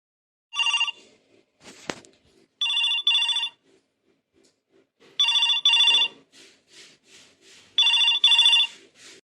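A cartoon telephone rings in four bursts, each a pair of bright electronic trills separated by pauses, with a short sharp knock before the second ring and faint background tones between.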